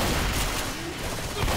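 Shotgun fire in a video game, a dense burst of booming blasts packed together across the short stretch, loud and close with no spoken words over it.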